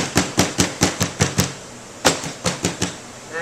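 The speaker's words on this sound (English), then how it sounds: "If you have anything raised up, just take your hammer." A hammer taps raised sheet metal flat on a drive cleat: a run of seven sharp, ringing metallic strikes at an even pace, a short pause, then five more close and loud.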